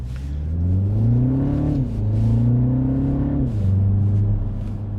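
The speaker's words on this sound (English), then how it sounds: "Engine sounds exactly like you'd expect from a B48." A 2025 MINI Cooper S with a BMW B48 engine revs up through the gears, steady droning climbs in pitch, drops at each shift, then climbs again; close and loud, no talking.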